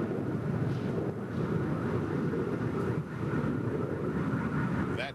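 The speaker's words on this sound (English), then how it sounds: "that clearly sounds like the jet engines flying over Baghdad" Jet engines flying over Baghdad during a military air campaign produce a steady, distant roar that rumbles continuously without pause.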